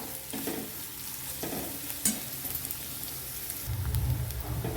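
Onion softening as it fries in a pan: a steady sizzle with repeated scraping stir strokes and a sharper clink near the middle, no talking.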